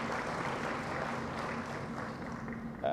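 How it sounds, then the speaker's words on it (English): Audience clapping at an economic growth forum, a dense continuous patter of many hands at even loudness for a few seconds, with a faint steady hum underneath. "Another clap of hands, please,"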